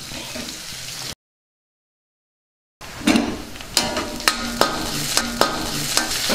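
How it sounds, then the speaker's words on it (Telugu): Garlic pieces sizzle and fry in a pan for a tomato and egg stir fry, with a steady crackle broken by several sharp, rhythmic scrapes of stirring, close and loud after a brief silence. "వెల్లుల్లిపాయ ముక్కలు వేసుకుందాం. దీన్ని ఒకసారి బాగా కలుపుకుందాం. వీటిని కాసేపు బాగా వేగనిద్దాం."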